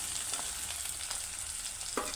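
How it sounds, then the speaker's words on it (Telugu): Sliced onions frying in oil in a pan for a tomato and brinjal curry, a steady soft sizzle with a brief scrape of stirring near the end, no voices. "ఉల్లిపాయలు వేగి ఉంటాయండి, ఒకసారి చూసుకుందాం. వేగిపోయాయి."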